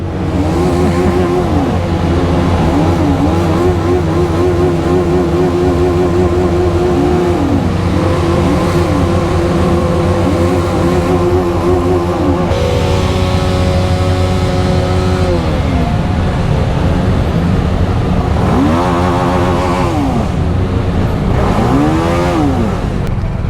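A motorcycle engine revs hard on a ride through the Himalayas to Spiti Valley, loud and close, with repeated rising and falling throttle sweeps over a constant idle rumble.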